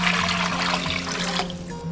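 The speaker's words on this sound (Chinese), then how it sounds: "锅中加入1500毫升清水" Tap water pours steadily into a cooking pot as 1500 ml is added for a jelly-fig dessert broth, giving a close, continuous rushing splash that thins slightly toward the end.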